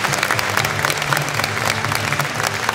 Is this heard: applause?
yes